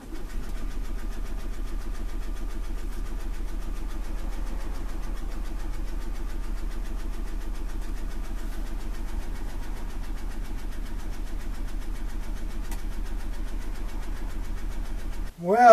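A camper's generator cranks over and over without catching, a steady rhythmic churning that runs for about fifteen seconds before cutting off abruptly.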